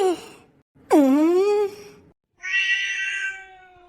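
A giant cat in a Tamil cartoon meows three times, loud and drawn-out, the first short, the second a rising wail, the last a strained, whiny cry.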